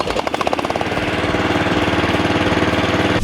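The engine of a Firman FWM700-R robotic brush cutter starts up and runs, its rapid, loud chugging pulses settling into a continuous, steady drone close by.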